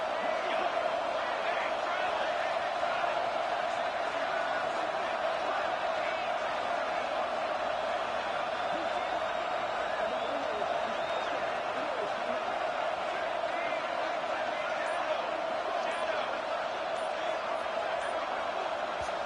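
Stadium crowd roaring steadily in a college football video game, late in the fourth quarter on a fourth-down play, a loud continuous wall of cheering and noise that holds level throughout.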